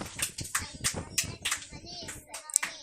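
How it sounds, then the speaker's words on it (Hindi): Children clap hands loudly in a classroom during a general-knowledge quiz, a burst of uneven, overlapping claps close by for a few seconds. "इसके बाद जोरदार ताली बजाओ मन के लिए"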